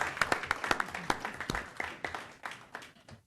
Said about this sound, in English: So we want to give her a round of applause too for putting all that effort into it.